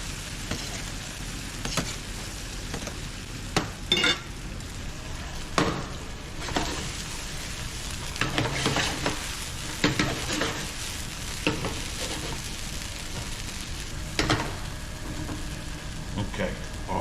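Cavatelli are dropped with a spider into a pan of frying sausage and broccoli rabe, and the pan sizzles steadily under repeated scraping and stirring strokes, near and moderately loud.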